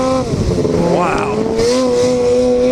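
Snowmobile fitted with a GGB trail can exhaust revving hard at full throttle, a loud rising and holding engine wail with a sharp pitch climb, close by, while someone talks over it.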